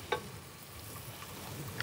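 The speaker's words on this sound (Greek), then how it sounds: "Μόλις ζεσταθεί το λάδι, σοτάρουμε το κρεμμύδι και προσθέτουμε και τις πιπεριές φλωρίνης." Chopped onion and sliced Florina peppers sizzle in hot oil in a pan, a soft steady frying hiss with a few small clinks of stirring near the start and end.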